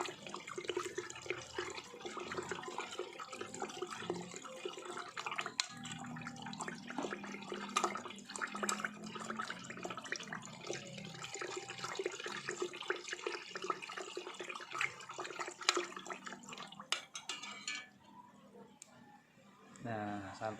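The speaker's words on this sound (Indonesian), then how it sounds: "Aduk terus ya." Liquid swirls and sloshes as a chemical solution of nitric acid and aqua regia is stirred to recover gold from thin chips, with splashy clinks through the clip while someone speaks over it.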